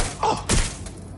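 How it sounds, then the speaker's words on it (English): Weapon reloading in Watch Dogs: Legion, heard as two quick mechanical thuds close together, a clack then a heavier knock, over low game ambience. "Reloading!"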